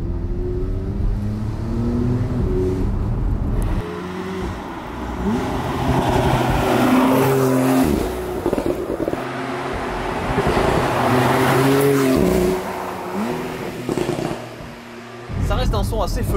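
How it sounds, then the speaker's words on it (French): An Audi R8 V10 or Porsche 911 GTS convertible engine revs and drops through manual-mode gear changes, its exhaust note rising and falling, with a few sharp exhaust pops as the throttle lifts. "il y a les petites explosions de l'échappement qui se font entendre"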